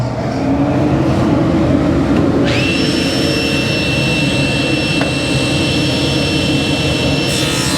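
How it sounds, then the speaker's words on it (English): A dust collector in a woodworking shop spins up partway through and settles into a loud, steady whine and roar over a constant background hum, with no speech. "Let's put on our safety gear, turn on the dust collector, and we're ready to go."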